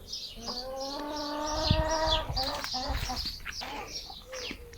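Village chickens clucking and squawking nearby, with a drawn-out harmonic call in the middle and a person talking in the background.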